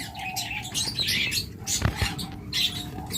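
A green opaline pet bird chirps in short, bright tweets scattered over a few seconds, close by, with light rustling and movement between calls.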